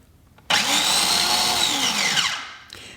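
An electric grinder blitzes fresh almonds in one short burst, starting abruptly with a loud high whirring roar that holds for about two seconds and then winds down, close up.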